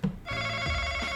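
A bell rung to buzz in during a Star Wars edition Trivial Pursuit game gives one sharp strike, then a bright ringing tone that holds loud and steady to the end with no talking.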